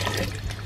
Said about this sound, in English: now we're just going to combine the sugary tea with the rest of the kombucha